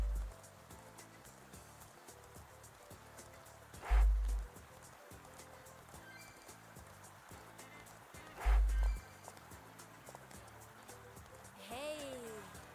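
Rhythmic clip-clop of horse hooves from riding in the video game Mein Gestüt runs steadily beneath a German-speaking voice, with two louder thumps and a rising whinny-like tone near the end.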